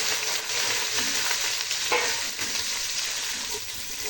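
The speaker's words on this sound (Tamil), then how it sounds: "வெங்காயம் நல்லா வதங்கட்டும்." Onions fry in a pan with Indian seasonings such as mint and coriander, giving a steady close sizzle with scattered stirring clatter and no voices.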